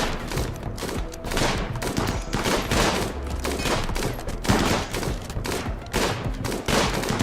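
Raiders open fire in the video game Rimworld: a dense, continuous volley of rapid gunshots and machine-gun bursts crackles loudly throughout, with overlapping shots and occasional heavier thumps.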